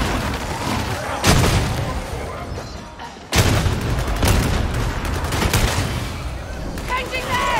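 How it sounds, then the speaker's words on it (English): A grenade blast in the video game Warhammer 40k: Darktide, a sharp loud burst after a brief dip, set amid continuous heavy gunfire and booming from a horde fight. "Throwing"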